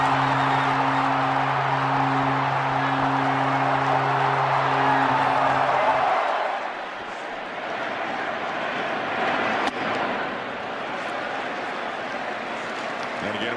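A packed Rogers Centre crowd at a Blue Jays World Series baseball game roars with sustained cheering and applause, a broad loud wash that swells at first and then settles into steady crowd noise.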